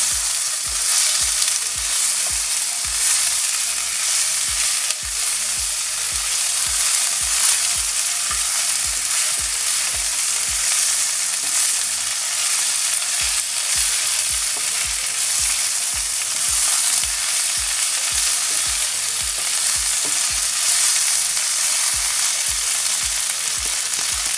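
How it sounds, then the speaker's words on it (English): Okra and previously fried onion are stirred together in a frying pan, giving a steady, loud sizzle with rhythmic scraping strokes of the spoon throughout, and no voices. "So everything gonna go together, and give it a proper good mix"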